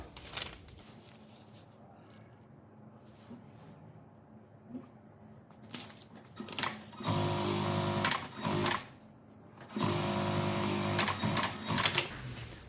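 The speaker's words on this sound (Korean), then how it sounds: "오바록 처리하시고요" An overlock sewing machine serges the sleeve seam of a windbreaker jacket. Quiet whirring stitching comes in short bursts, then grows into louder, sustained runs with brief pauses between them.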